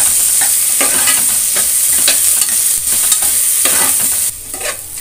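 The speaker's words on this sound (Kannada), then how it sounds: "ಬ್ರೌನ್ ಕಲರ್ ಬರೋವರೆಗೂ ಈರುಳ್ಳಿ ಫ್ರೈ ಮಾಡ್ಕೋಬೇಕು" Sliced onion and green chilies fry in hot oil for egg biryani, giving a loud, steady, close sizzle throughout, with the rhythmic scrape of stirring in the pan and no talking.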